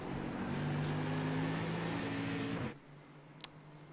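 Mercedes GT4 race cars at Lime Rock Park drone with a steady, tonal engine note for a few seconds before the sound abruptly drops away, leaving a faint background and one brief click.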